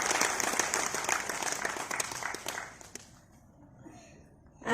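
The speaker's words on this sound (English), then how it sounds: "Can we have a huge round of applause for everyone?" A crowd at a Lions Clubs International District 317E installation ceremony in Nimhans Convention Hall, Bangalore, claps loudly in a dense burst of applause that thins out and fades after about three seconds.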